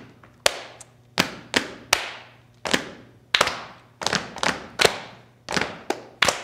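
Rhythmic stomp percussion of a right foot stamping and hands clapping, a steady series of about fourteen sharp, close thuds and claps in an uneven beat, with no talk over them.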